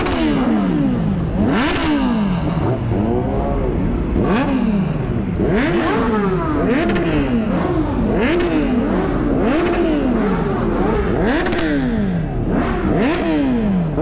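Motorcycle engine at a college bike event revved hard and repeatedly, loud and close, with rising and falling sweeps in a steady rhythm of throttle blips.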